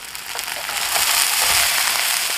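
Shrimp stir-fried over high heat in a wok right after soy sauce and cheongju hit the pan: a steady, loud, close sizzling hiss with faint crackles, no voices.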